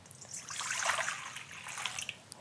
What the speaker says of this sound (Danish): Jeg starter med at hælde lunken vand op i en skål her.